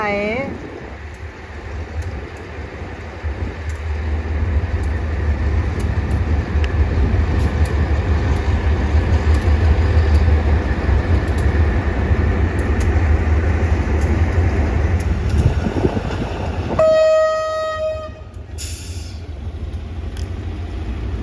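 State Railway of Thailand diesel locomotive number 4507 passes near Hin Lap station on a mountain line, a loud, sustained rumble building and fading, then a horn blast near the end.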